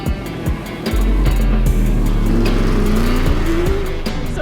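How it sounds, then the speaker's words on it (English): A 1970 Camaro race car revs hard nearby, its loud engine roaring and climbing in pitch through a sustained pull, with sharp mechanical bursts early on. "he's ripping around in a 70 Camaro"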